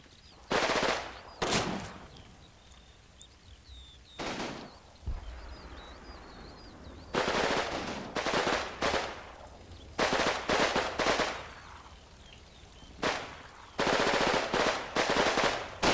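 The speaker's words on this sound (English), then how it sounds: "It looks like my guys are shooting through the brick wall" Machine-gun fire from an MB40 in a video game, sharp bursts of rapid shots in irregular clusters, some long and dense, with brief quiet gaps and faint distant shots between them.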